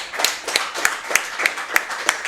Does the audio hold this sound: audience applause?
yes